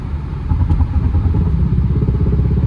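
A 2015 Subaru Forester at highway speed, cabin filled with a steady low rumbling drone and vibration from the road and engine, continuous and fairly loud with a slight swell after the first half second.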